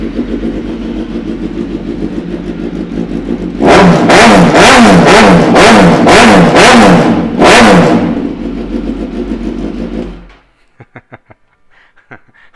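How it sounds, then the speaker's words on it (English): A 2016 Suzuki GSX-S1000 ABS motorcycle with an aftermarket exhaust idles loudly up close, then gets a rapid series of sharp throttle blips and revs for several seconds before being shut off, leaving a few faint ticks and clicks. "I'm going to give it a quick start up so you can hear the noise as well."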